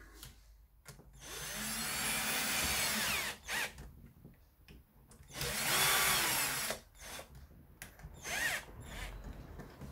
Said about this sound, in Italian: andiamo ora a stringere le viti